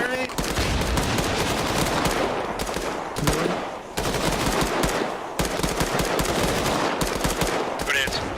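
Sustained automatic gunfire from an Arma 3 military simulation battle, loud and near, with rapid bursts running almost continuously and only brief pauses between volleys.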